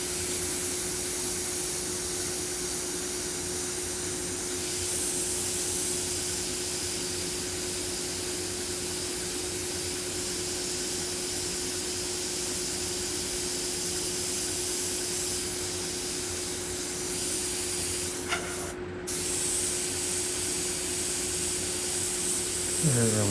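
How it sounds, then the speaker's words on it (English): An airbrush spraying paint while skulls are airbrushed, a steady close hiss of air with a constant compressor hum beneath, briefly interrupted near the end. "my airbrush is gonna start acting up once again."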